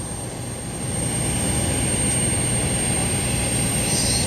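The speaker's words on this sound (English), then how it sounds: "And then the A320 just starting to take off." An Airbus A320 jet at Madeira airport begins its takeoff roll, a broad steady engine roar that swells within the first second and then holds loud and constant.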